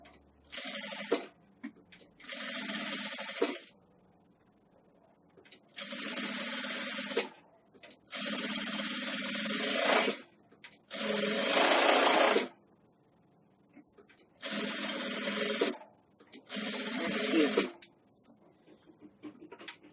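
A sewing machine runs a seam around a nursing pillow in repeated bursts of fast, steady stitching, each lasting one to two seconds and separated by short pauses, close and loud with no talk.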